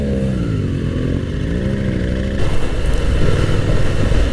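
Classic motorcycles roll past during the Distinguished Gentleman's Ride in Munich, a steady close engine drone with harmonic revving that grows louder and rougher as more bikes pass.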